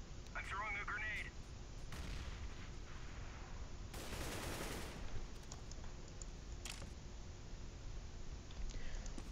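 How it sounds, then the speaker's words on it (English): A grenade goes off in a CS:GO match on the Office map, a broad loud burst midway, surrounded by scattered gunshots, clicks and game effects with a voice talking over parts of it. "I'm throwing a grenade."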